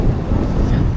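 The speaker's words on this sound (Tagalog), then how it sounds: "Ang lakas ng hangin!" Strong wind batters the microphone outdoors in Taiwan, a loud continuous low roar and rumble with no letup throughout.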